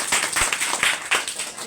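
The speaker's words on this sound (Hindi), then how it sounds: "चाहूंगा जोरदार इसके लिए जोरदार तालियां" An audience at a business presentation claps in a brief, dense burst of applause, loud and close.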